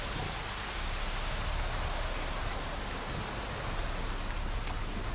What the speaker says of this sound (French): En plus il pleut là.